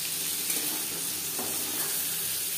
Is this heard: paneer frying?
yes